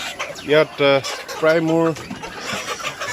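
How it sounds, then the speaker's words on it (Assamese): Sonali breed laying hens on a farm, agitated at morning feeding, give repeated clucks and squawks in short bursts close by, with a person talking over them. "এইখিনি গোটেইখিনি সোণালী মুৰ্গী"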